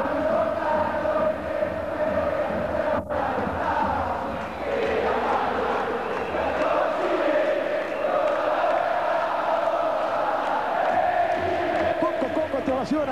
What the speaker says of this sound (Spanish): Todos saltan, todos gritan, todos festejan.